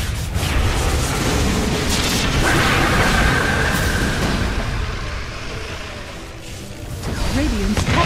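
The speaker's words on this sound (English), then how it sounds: "Radiant's top tower is under attack." A tower under attack in a Dota 2 Ability Draft match: repeated booms, impacts and whooshes of battle in a dense, loud mix, with a brief voice-like sweep near the end.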